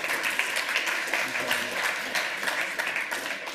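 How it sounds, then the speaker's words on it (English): Audience applause after a countdown at a lightning-talk session of a hacker conference, a dense steady patter of many hands clapping in a hall, with a speaking voice over it. "Give yourselves a round of applause."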